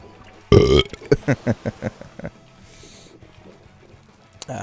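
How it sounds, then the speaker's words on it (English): A person burps loudly once, then lets out a rapid series of shorter burps in a steady rhythm, close and clear, with a faint tail afterward. "quite a lot of people searching the tag are into burps"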